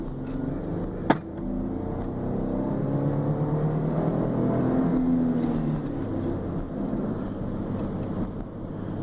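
A 2008 Dodge Nitro accelerating hard from about 30 mph in second gear: a steady engine drone rising in pitch under heavy wind and road noise, with one sharp click near the start.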